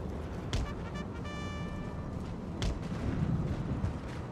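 Faint distant cannon booms from battlefield artillery in Napoleon: Total War, two dull blasts a couple of seconds apart over a low ambient battle wash.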